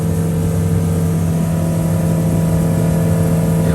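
A Honda BF90D outboard motor runs at about 5,000 RPM during prop testing, a steady loud droning hum with a constant pitch and no letup, close by and without voices.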